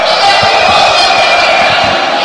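A large esports arena crowd at a CS:GO Major match roars continuously, a loud, dense wash of cheering and shouting with no breaks.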